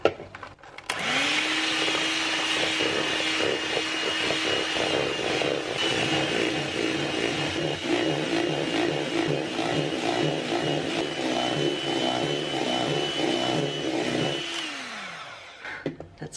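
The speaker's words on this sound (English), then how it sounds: "I've got my 4 egg whites over here, and I'm going to whisk them until I have meringue" Four egg whites beaten into meringue with an electric whisk, a steady loud motor whine running unbroken for about fourteen seconds before spinning down.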